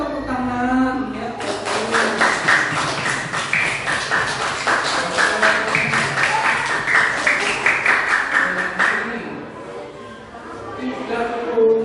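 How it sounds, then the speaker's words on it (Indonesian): Classroom of schoolchildren clapping together in a fast, regular rhythm for several seconds, loud and close, with a teacher's and children's voices before and after. "Iya, tepuk tangan."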